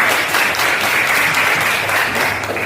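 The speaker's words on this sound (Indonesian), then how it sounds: "Oke, mantap. Tepuk tangan." A classroom of students claps together, a loud, continuous burst of hand-clapping lasting a few seconds.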